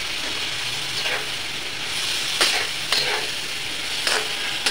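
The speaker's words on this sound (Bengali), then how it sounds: "এরপরে পাশের চুলায় ভাজিটা বসিয়ে দিলাম।" Bottle gourd bhaji frying in a pan on a stove, a steady sizzle with occasional stirring scrapes and rattles, close and moderately loud throughout.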